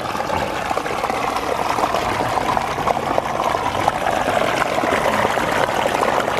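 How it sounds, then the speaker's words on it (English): Water of a small waterfall tumbling over rocks into a babbling stream, a continuous close rushing and splashing that stays steady throughout with no voices. "Let's move up to that next waterfall and really listen to the sound of that falls."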